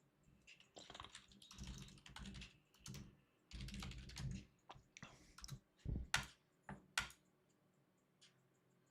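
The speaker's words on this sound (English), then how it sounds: "Don't get me started on the typing." Fast bursts of typing on a computer keyboard clatter close by, with clusters of keystrokes separated by brief pauses and a few sharp isolated clicks near the end.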